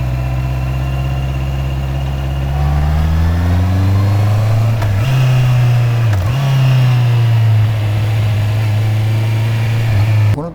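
A motorcycle engine idles, then its pitch climbs as the throttle opens, followed by two quick throttle blips during downshifts before it settles into a steady, loud, close-up hum.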